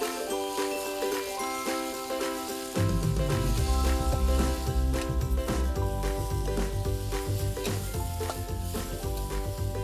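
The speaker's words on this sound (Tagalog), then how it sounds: "Meron tayong mainit na pan dito. Lagyan lang natin ng mantika." Chicken portions frying in hot oil in a pan, a loud steady sizzle that jumps in intensity partway through as pieces hit the oil, with faint metallic clinks and no voices.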